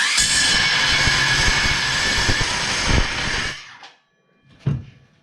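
A loud, steady, grinding roar of a power saw cutting metal for several seconds, then it stops abruptly, followed by a brief clunk.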